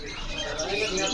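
Caged white-rumped shamas for sale at a bird stall, chirping and whistling in quick bright bursts, with other bird calls and cooing mixed in and a voice talking over them.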